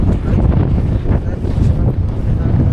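Strong wind buffets the microphone at a seaside fishing spot, a loud continuous roaring rumble with no pauses, nearly drowning out everything else.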